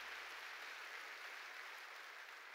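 A Korean church congregation claps together in praise during a sermon, a dense, even wash of many hands clapping, fairly faint and continuous with no voices over it.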